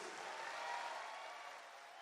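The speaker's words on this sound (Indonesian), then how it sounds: "Tepuk tangan untuk para pejuang verifikasi." At a PSI party national gathering, an audience claps for the verification volunteers in a short, fairly faint burst of steady applause.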